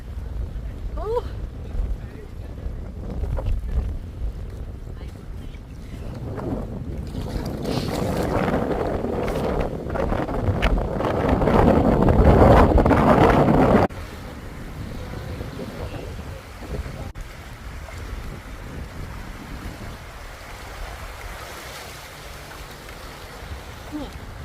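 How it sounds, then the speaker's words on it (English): Cold wind sweeps across a lake at Wannsee in Germany, buffeting the microphone with low, rumbling gusts. It builds to a strong roar midway, then drops to a lighter, steady blow. "You all can hear the wind, yeah."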